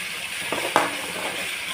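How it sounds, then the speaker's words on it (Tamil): Ginger garlic paste sautéing in a pan for a crab fry, a soft steady sizzle with a faint stir or clink of a utensil partway through. "இஞ்சி பூண்டு பேஸ்ட் நல்லா வதங்கட்டும்."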